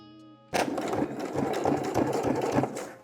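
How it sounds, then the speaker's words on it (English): A sewing machine runs steadily and loudly at close range, edge stitching through thick layers of a zippered box pouch, starting abruptly after a short hum and keeping a fast, even mechanical rhythm throughout. "I'm gonna go ahead and top stitch this in place, or edge stitch, if you will"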